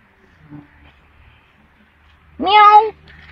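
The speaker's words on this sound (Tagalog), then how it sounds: "Daming pusa dito sa..." A single clear cat meow rings out close by after a near-silent stretch, with a faint shuffle earlier.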